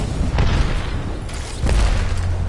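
Airstrike blasts in the video game Apex Legends land as deep booming explosions, two heavier thuds rolling over a constant rumble of battle noise, close and loud with no talk.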